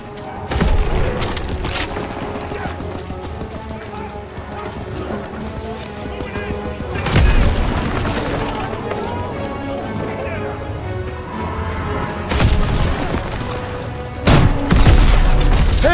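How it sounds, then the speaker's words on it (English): Heavy explosions and gunfire in a Call of Duty WW2 battle as rocket launcher hits destroy a German Panzer tank, loud booming blasts over continuous dense combat noise, with sharp impacts near the start, midway and at the end. "German rocket launcher! Good! Now hit that Panzer!"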